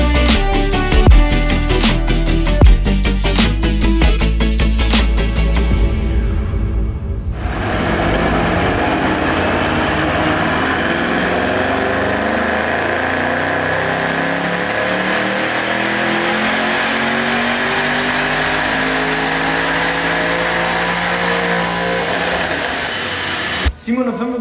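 A Mercedes E63 S AMG engine on a dynamometer roars loudly at full throttle, then holds a long, sustained high-rev howl that climbs steadily in pitch before abruptly cutting off.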